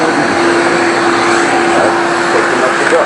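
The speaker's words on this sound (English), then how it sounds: "So we'll start by turning on the vacuum." A workshop vacuum running through a homemade cyclone dust separator with a Thien baffle, giving a steady, loud, continuous whine and rushing hum that stays even throughout with no break.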